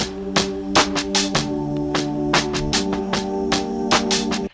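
A distorted, gritty hip hop drum loop on an Elektron Octatrack repeats with punchy hits over a sustained buzzing tone, steady and up front with no talking.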